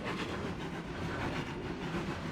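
A train running on rails in the Trainz 22 simulator, a dense steady rumble with rattling wheel and wagon noise, close and constant throughout, without talk.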